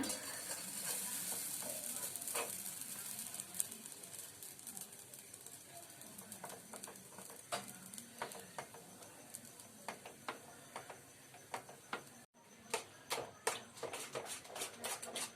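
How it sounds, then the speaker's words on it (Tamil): Kunafa vermicelli pastry is mixed with ghee in a bowl, giving soft, quiet scraping and stirring with scattered small clicks. It is close but faint and continuous, with a brief drop near the end and no talking. "நெய் ஊற்றி நல்லா மிக்ஸ் பண்ணி எடுத்துக்கோங்க"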